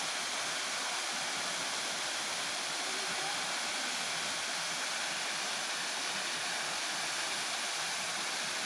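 A waterfall near Giri Gobardhan pours in a dense, unbroken roar, loud and close, with no other sounds standing out.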